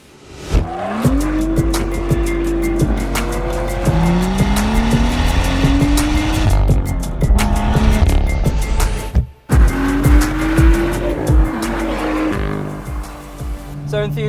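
A BMW M2 drives hard along a narrow English B road, its engine loud and close as it climbs through the gears and shifts, with tyre noise and brief squeals. A sharp break near the middle interrupts the steady roar.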